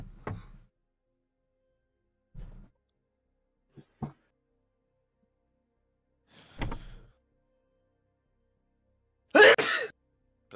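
One loud, sharp sneeze near the end, following several soft thumps and clicks in an otherwise quiet room.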